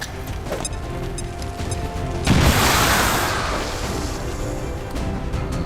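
A frag grenade goes off in the video game XCOM 2: one loud, sudden blast partway through, followed by a long rumbling decay over ongoing game background sound.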